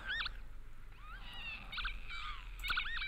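Lapwings call on farmland in spring, giving repeated wheezy, slurred whistles at moderate distance over a low background rumble.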